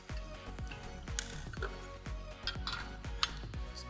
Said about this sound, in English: we're just going to go ahead and tighten these up. So it's going to be an 8mm socket on the back side here